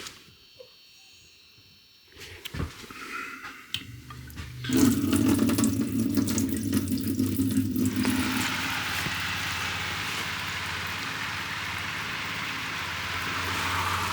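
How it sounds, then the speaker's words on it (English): A water pump in an off-grid tiny cabin kicks on with clicks and a rising hum, then water gushes steadily from a tap, close by and continuous for the rest of the stretch. "I'm gonna turn this pump on and make sure everything's like good and flowing as is"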